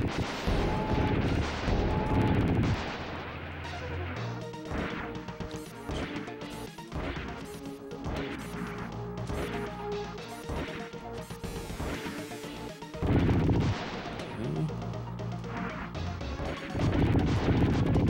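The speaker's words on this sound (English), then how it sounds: "And more beautiful explosions." Explosions in the video game Assault Suits Valken crash and boom repeatedly, loud and dense, with clusters of blasts, gunfire-like hits and whooshes over a continuous game soundtrack, strongest bursts at the start and near the end.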